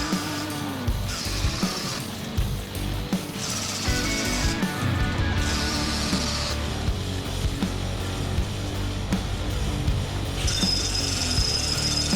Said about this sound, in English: can take it on over the belt sander, sand it down, get the notch going